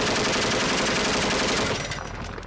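A burst of rapid automatic gunfire crackles continuously in a firefight on the streets of Mosul, loud and dense, easing slightly toward the end.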